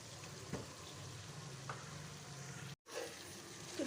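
Chicken white karahi with cream sizzles steadily in a pan, a constant frying hiss with a few soft scrapes of stirring, close and moderately loud; a brief gap near the end.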